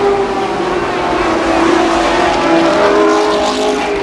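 Sprint cars race around Columbus Motor Speedway, their engines a loud, continuous roar that swells as the pack passes close by.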